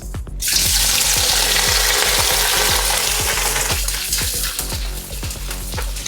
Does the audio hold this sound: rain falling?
no